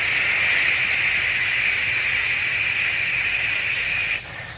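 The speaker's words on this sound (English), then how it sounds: "white noise is wide spectrum sound" A steady wide-spectrum white noise hiss, dense and loud, holds evenly before dropping off slightly at the end.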